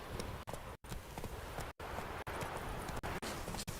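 A horse gallops in The Witcher 3: Wild Hunt on Xbox One S, with rapid, dense hoofbeats running steadily through a noisy in-game mix, broken by a few short dropouts.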